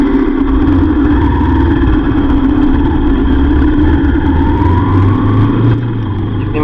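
A motorbike engine runs steadily near a hotel in Chail, a small hill station outside Shimla, giving a loud, constant close-up drone with no speech.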